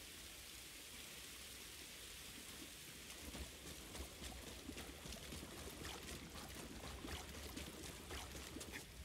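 Faint, steady hiss of rain in the video game Star Wars Jedi: Fallen Order, with scattered droplet taps, quiet and continuous, no voices.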